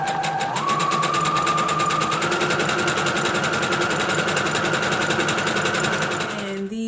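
A sewing machine runs steadily through prom dress fabric, its fast, even motor whir sustained and loud from start to finish, with a brief pitch shift early on and the machine slowing at the very end.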